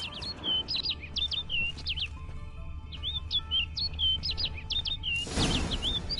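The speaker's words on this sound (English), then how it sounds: "Looks like the bird's leading me somewhere." Bird in The Witcher 3 expansion chirps in quick repeated bursts of high tweets, two clear phrases over a low ambient hum, followed by a short rustling whoosh near the end.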